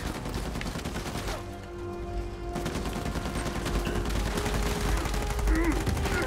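Rapid bursts of gunfire crackle continuously in a dense, noisy Uncharted 4 game soundscape, with no clear pauses between shots.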